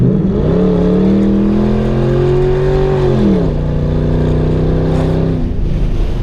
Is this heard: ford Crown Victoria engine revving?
yes